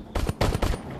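Three quick gunshots from the standard weapon in the VR shooter Crashland on Oculus Quest 2, punchy close bursts fired in rapid succession.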